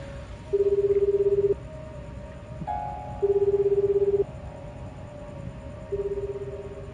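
A cell phone being dialed gives three steady, evenly spaced tones, each lasting about a second, loud and alone, with a brief higher beep between the first two.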